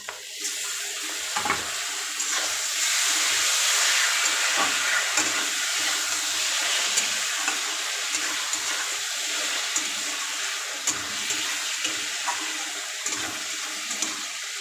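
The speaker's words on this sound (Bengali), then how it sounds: "এখন আমি দিয়ে দেবো নুন হলুদ মাখা এই লোটে মাছটা" Salt-and-turmeric-coated lote fish (Bombay duck) hits a hot frying pan in a bitter gourd lote fish jhuri recipe, giving a loud, steady hiss of frying that holds evenly throughout with scattered small pops.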